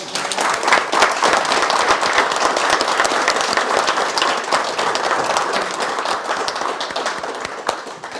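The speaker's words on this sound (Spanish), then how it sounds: "un fuerte aplauso para el Padre" An audience at a church gathering applauds a priest with dense, sustained clapping that stays loud and even throughout before tapering slightly at the end.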